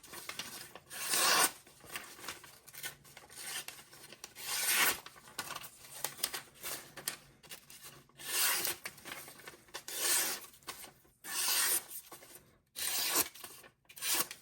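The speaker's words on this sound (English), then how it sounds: "it's gonna definitely cut through that paper with no issues" A sharp new Artisan Cutlery Holm button lock knife slices through paper, giving repeated close, dry rasping swishes of varying length separated by short quiet gaps.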